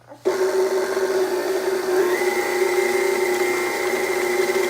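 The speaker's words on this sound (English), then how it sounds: "Basically what you hear is the buttermilk and the butter just making a very loud, watery sound." Stand mixer churning butter, the butter and buttermilk sloshing loudly in the bowl; a steady, continuous mechanical whir with a watery churn starts abruptly and runs on alone without talk.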